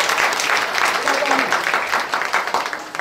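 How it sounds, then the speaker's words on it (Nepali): Guests at a Nepali wedding applaud, a loud, dense burst of clapping close by, with voices audible underneath the clapping. "ताली बजाउन, ताली हाल्नु"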